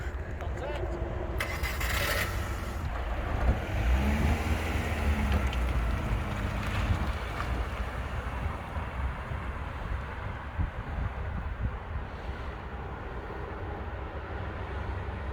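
Project Nigel, a car driven by a driver, starts up and pulls away, its engine rumbling under wind noise and a brief murmur of voices.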